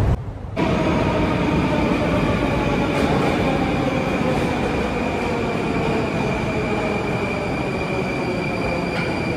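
Metro train running through a Russian subway station, a loud continuous roar of wheels and rails with tonal whine and squeal lasting throughout, close and steady after a brief quieter start.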